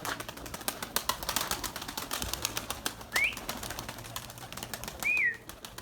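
Pigeons take off with bursts of flapping wings, a rapid fluttering clatter that comes and goes, with a couple of brief chirps and calls rising above the busy rustle.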